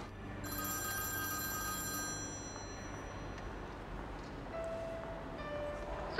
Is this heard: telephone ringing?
yes